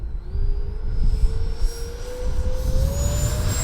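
Radio-controlled L-39 Camo model jet with its engine whining as it rolls for takeoff, a steady rising turbine tone over loud continuous rumble and wind.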